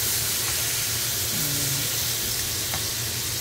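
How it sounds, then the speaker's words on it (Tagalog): Beefsteak for bistek Tagalog frying in a pan until browned, a loud, steady, hissing sizzle close up that runs unbroken, with a faint low hum beneath. "Pa-fry po natin siya hanggang sa mag-brown na po siya"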